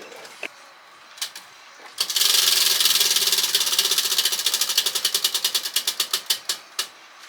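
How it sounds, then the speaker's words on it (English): A prize wheel spun by hand rattles into a dense run of rapid clicks from its pointer, then slows into spaced, distinct ticks before stopping, close and loud. "I'm gonna spin the wheel."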